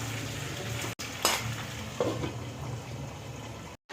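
Sweet potato and carrot are stirred in a pot for undhiyu, a low sizzle with a few scraping and clinking strokes of the spoon, close and unaccompanied by talk, with brief dropouts.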